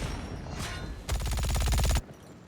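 An MG 42 machine gun in a video game rips off one loud rapid burst of about a second, its fast evenly spaced shots standing out after quieter clatter and ending abruptly.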